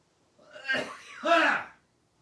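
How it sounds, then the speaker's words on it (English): Two close, throaty wet coughs in quick succession, the second fuller and more phlegmy, with silence around them. "it's a wet cough"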